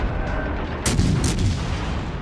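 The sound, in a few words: HMS Warspite battleship full gun salvo, World of Warships Legends video game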